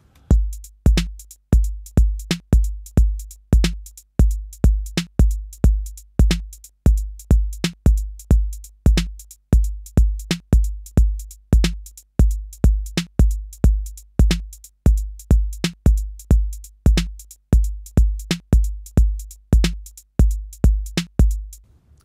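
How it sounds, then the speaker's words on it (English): Cymbal struck in a steady stream of sharp, ringing hits, first evenly spaced eighth notes and then a swung long-short pattern, loud and alone with no talk. "Now we're going to listen to swung eighth notes"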